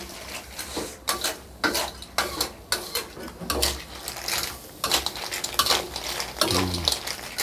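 Clams are stir-fried in a hot pan, a spatula scraping and clanking against the metal in quick repeated strokes over a constant sizzle, close and busy throughout.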